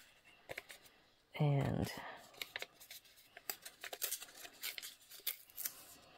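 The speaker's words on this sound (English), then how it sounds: "We're just going to kind of rip it up like that." Paper is torn by hand into pieces for ink smooshing, giving one sharp, loud rip followed by softer crinkling and rustling handling sounds close by, with someone talking over them.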